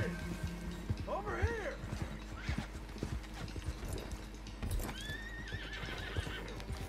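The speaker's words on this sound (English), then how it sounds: "Jesus, this horse." A horse in the game Red Dead Redemption 2 gives a loud, wavering neigh early on and another whinny later, over repeated hoof clip-clops, with someone talking at times.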